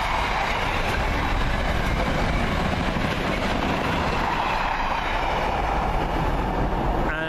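Freightliner freight train, Skoda-built locomotive 90045 hauling the 4L48 from Crewe Basford Hall to Felixstowe, passing through Colchester station with a steady loud rumble and rhythmic wheel clatter throughout, a brief squeal near the end.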